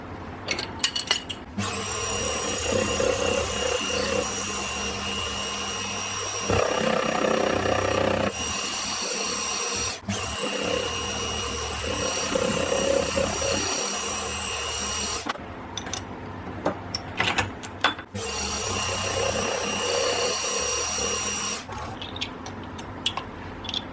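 Hand-sharpened 20mm cutter wheel machining metal, a loud, continuous grinding whine with a few brief pauses and shifts in pitch, running steadily close by with no talking.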